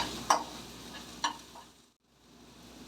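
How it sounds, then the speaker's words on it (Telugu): Ginger garlic paste frying with onions and peas for pav bhaji: a steady soft sizzle in a pan, broken by a couple of sharp spoon taps from stirring, heard close and without talk. "ఇందులో 1 టేబుల్ స్పూన్ అల్లం వెల్లుల్లి పేస్ట్ వేసుకుని 1 నిమిషం పాటు వేయించుకోవాలి"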